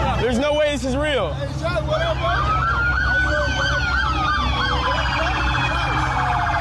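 Police car sirens wail outside a rap concert, loud, rising and falling sweeps that overlap, a fast yelp at the start giving way to long wails, over a low rumble of traffic and crowd chatter.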